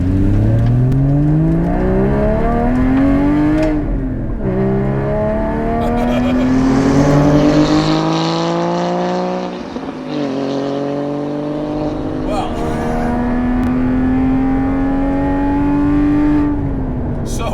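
A 2018 Porsche 718 Cayman GTS engine revs hard through a loud, raw mufflerless exhaust, pitch climbing and dropping across several throttle blips and shifts, continuous and close.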